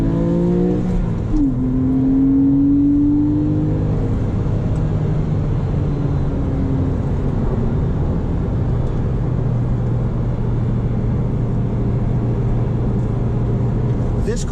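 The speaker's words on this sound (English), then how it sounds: "Always rev match your downshifts." A Porsche 997 engine drones steadily from inside the cabin while driving, its pitch rising and falling as the revs climb and drop on downshifts, with a low road rumble beneath and talking over it.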